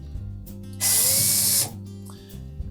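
A power driver backs out number 2 Phillips head screws from a Samsung dryer panel during thermal fuse repair: a single loud, close whirring burst of under a second over a quiet background hum.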